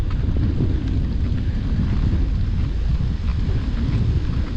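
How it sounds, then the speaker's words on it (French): Strong wind roars across the microphone at the start of a mountain bike ride near Calais, a continuous low rumbling buffet with no voices. "il y a du vent"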